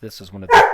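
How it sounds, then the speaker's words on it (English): A puppy gives a short, loud bark right at the end, close by, just after a brief burst of a man's speech. "That was my dog."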